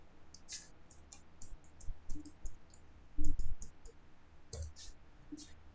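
Scattered keyboard typing clicks while filling in an online application form's address fields, with quick irregular taps spread through the clip over faint low background sound and a few soft thumps.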